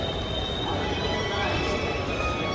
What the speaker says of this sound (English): And this is the Malad railway station.